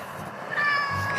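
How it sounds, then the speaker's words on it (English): A cat lets out a single close, clear meow that rises partway through and holds to the end of the brief moment. "It's a cat."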